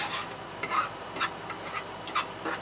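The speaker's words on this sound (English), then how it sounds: "We're going to fluff and stir with our fork." A fork fluffs and stirs a meatloaf mixture in a bowl for a Halloween skull meatloaf, making soft, repeated rasping scrapes in uneven bursts, close and moderately quiet, with no talking.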